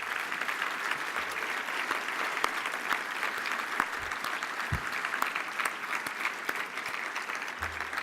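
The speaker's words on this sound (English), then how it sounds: "please stand up and give a round of applause for our partners" A large audience gives a standing round of applause for partners at a community report event, sustained dense clapping throughout with occasional low thumps.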